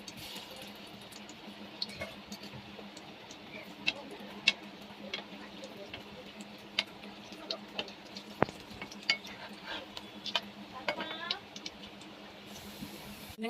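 Jackfruit chops fry in hot oil in a wok, a steady low sizzle running throughout with frequent sharp clicks and pops of spattering oil and a few scrapes near the end.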